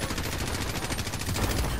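Sustained automatic gunfire in Call of Duty Warzone rattles in a steady rapid stream of shots at moderate distance.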